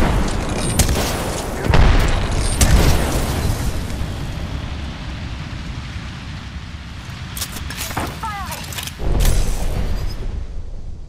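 Frag grenades explode in Apex Legends, with several heavy booming bursts standing out over continuous game noise and mechanical clatter.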